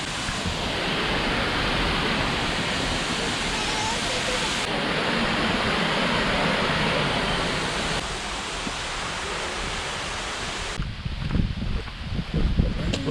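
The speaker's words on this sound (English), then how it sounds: "it was pretty neat seeing the waterfall" Miners Falls, a waterfall in Michigan's Upper Peninsula, pours with a steady, broad roar heard up close, holding even through the whole stretch before rougher, gusty rumbles break in near the end.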